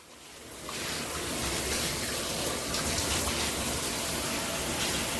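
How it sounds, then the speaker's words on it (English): A handheld high-pressure shower head in rainfall mode sprays water in a dense, continuous hiss that starts abruptly after a brief quiet moment and stays loud and even to the end, with no talking. "it comes through the shower head. It's called a rainfall."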